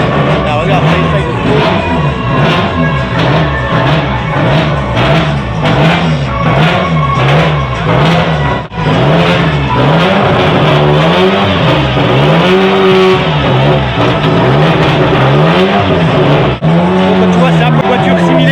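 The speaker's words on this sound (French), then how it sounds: "il y a une voiture qui est en train de faire du essai moteur" A WTCR touring race car on an engine test at the Anneau du Rhin circuit, its engine revving loud and close in repeated rising and falling bursts, with a brief cut near the middle.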